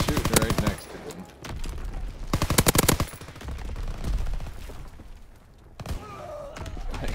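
Rapid bursts of automatic gunfire in Call of Duty WWII, two loud close volleys of fast repeated shots with thuds and other battle noise between them.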